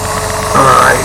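A small brand-new model engine, part of a ship engine room diorama, runs smoothly with a steady close mechanical hum that swells slightly partway through, with a faint whine above it.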